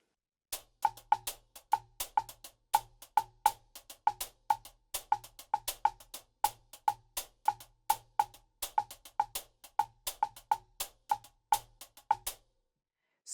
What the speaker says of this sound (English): I first focused on the result of my pattern in 5 added to my clave.